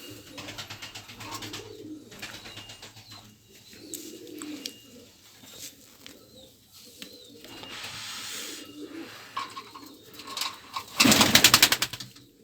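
Pigeons coo repeatedly through an evening feeding of the birds, a steady layered murmur of calls with a louder burst of rustling or flapping near the end.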